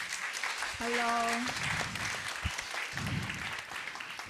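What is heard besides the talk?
audience applause for a performer at a design conference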